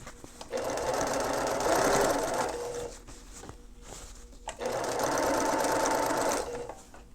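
A sewing machine runs two steady stay-stitching passes a quarter inch along the top edge of a bucket hat brim, each lasting a couple of seconds, with a short pause between them and no talk.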